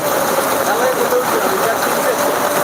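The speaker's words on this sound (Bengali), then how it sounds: "প্রচুর পরিমাণ বৃষ্টি হচ্ছে" Heavy rain pours steadily during an evening storm in Sylhet, a dense continuous hiss that stays loud and even throughout, with faint voices mixed in underneath.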